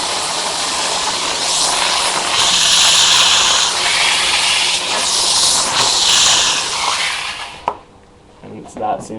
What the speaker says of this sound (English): So I'll just show you the steam that comes out of that one